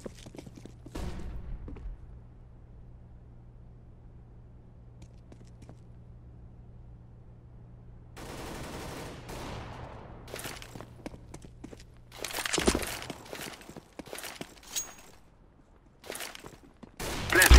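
Gunfire in Counter-Strike: Global Offensive: a quiet stretch with faint footsteps and background hum, then sharp, loud bursts of shots from about halfway through, with another heavy burst near the end.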